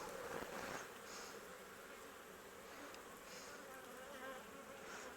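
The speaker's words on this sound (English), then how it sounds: "I don't know if you can hear the bees, but they're definitely loud now" Bees swarm around a large mass of honeycomb, a loud, dense buzzing that holds steady and close throughout, with no talking over it.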